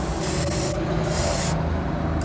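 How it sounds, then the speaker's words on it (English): A compressor-driven spray gun sprays paint at about 30 psi in hissing bursts that start and stop, with a steady low hum underneath. "I'm going to be spraying this about 30 psi."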